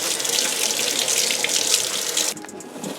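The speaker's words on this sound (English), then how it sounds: "So we're going to wash it with cold water." Cold tap water runs into a kitchen sink as asparagus is rinsed, a steady hiss of flowing water that stops abruptly near the end, leaving quiet dripping.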